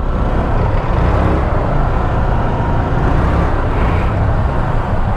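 Congested roadway near the Lourdes Grotto in Benguet, with a dense, continuous roar of cars, trucks and buses close by and no gaps or voices.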